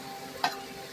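A paste of green chili, garlic, cumin and coriander sautés in oil in a pan, giving a low, steady sizzling hiss with one brief sharp tick of stirring partway through.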